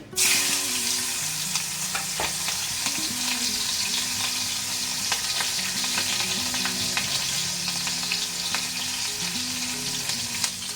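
Green chillies fry in hot oil for varai upma, a loud continuous close sizzle with scattered crackles and pops throughout.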